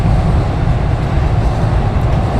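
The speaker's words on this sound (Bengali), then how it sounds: "তো ট্রেনটা এখন মোটামুটি ভালোই টানছে" A Vibhuti Express passenger train runs fast on the tracks, heard from inside the carriage as a loud, dense, steady low rumble and rattle with no talking.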